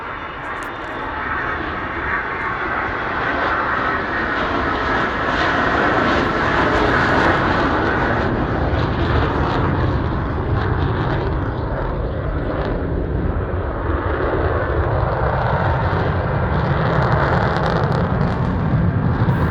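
Avro Vulcan XH558 bomber flying past at the Bournemouth Air Festival 2015, a loud continuous jet roar that fills the whole stretch with a broad, steady rumble and no break.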